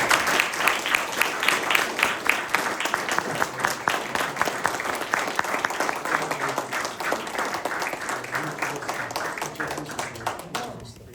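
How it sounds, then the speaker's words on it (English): Big, sustained applause fills a council meeting room in Palisades Park after a police officer's swearing-in, dense clapping from many hands carrying on for about eleven seconds before tapering off, with faint voices mixed in. "Big applause."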